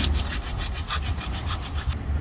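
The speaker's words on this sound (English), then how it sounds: "we need to sand it again because you don't want to glue to that dried glue" Dried adhesive is sanded off the sidewall of a 40-inch Nitto tire, a close, steady rasping scrub with quick back-and-forth strokes.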